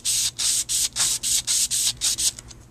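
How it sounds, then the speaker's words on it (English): Rhythmic back-and-forth sanding strokes on a polymer clay blade, about ten quick even passes, close and raspy, tapering off at the end. "I'm actually placing pressure on this part of the blade underneath and just sanding"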